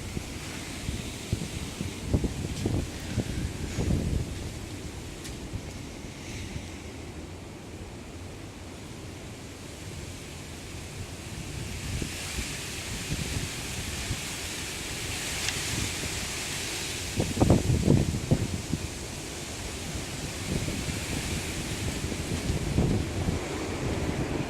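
Strong, steady wind roars outdoors during a high wind advisory in southwest Michigan in winter, a continuous broadband rush with gusty swells and buffeting against the microphone throughout, no voices.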